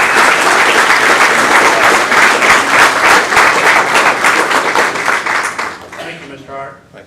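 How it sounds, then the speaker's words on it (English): At a county Law Day gathering, an audience gives a loud, full round of applause that rolls on for several seconds, then thins and fades out toward the end as a few last claps trail off. "So let's give them a round of applause."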